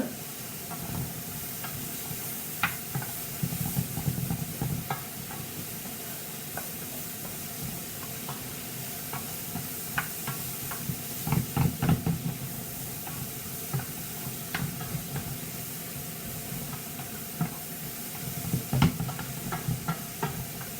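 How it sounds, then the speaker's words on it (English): Fresh vegetables half-cooking in a frying pan for lasagna sizzle and hiss steadily throughout, with frequent stirring scrapes and light knocks of a utensil against the pan. "you only need to half cook your veggies just so that they're soft and not completely raw"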